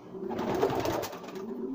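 Pigeons coo steadily close by, a soft, warbling murmur of several birds layered together without pause.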